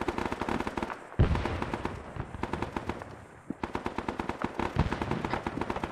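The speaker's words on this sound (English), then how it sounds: "someone just shot" Gunfire in Arma 3 set in Vietnam: rapid automatic bursts crackle almost continuously, with a heavier bang early on and a brief lull in the middle before the firing resumes.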